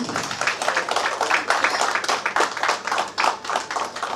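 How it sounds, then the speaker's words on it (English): A group at a cricket tournament team auction claps together, a dense rhythmic burst of applause close by that carries on steadily without pause. "Applause to the team."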